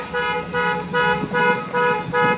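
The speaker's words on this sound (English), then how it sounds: "You're honking." A car horn honks in a series of repeated short blasts, loud and nearby, with a steady rhythmic pattern.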